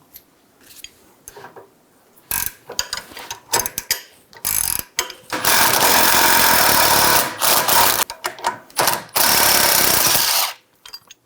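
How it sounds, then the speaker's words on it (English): Power tool loosening a bolt on the rear upper control arm of a 2011-2014 Hyundai Sonata, a loud sustained mechanical whirring with ratcheting bursts, broken by sharp clicks and metallic clatter. "we're going to remove the bolt."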